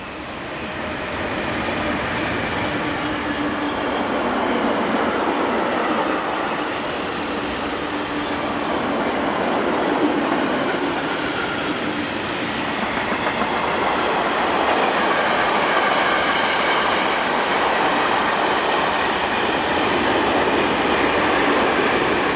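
A Class 145 locomotive hauls a freight train at dusk, a steady loud rumble of rolling wagons with clattering wheels that continues for the whole stretch, close by and with no voices.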